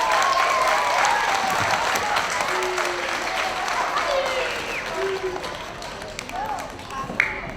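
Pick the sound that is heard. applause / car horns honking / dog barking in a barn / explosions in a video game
applause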